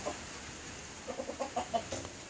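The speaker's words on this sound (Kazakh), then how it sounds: "Мына екі атеш арысып жатыр өздерінше." Farmyard chickens and roosters cluck in a quick run of short, soft calls, fairly faint and a little distant, rising into a brief flurry before trailing off.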